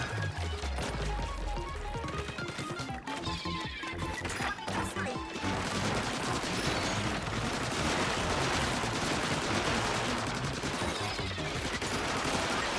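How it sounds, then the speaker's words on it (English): Rapid crashing volleys from a deployed turret in Splatoon Raiders pound away at enemies, dense and continuous for over ten seconds, loud and busy with layered game effects. "Do it, turret. Shoot them."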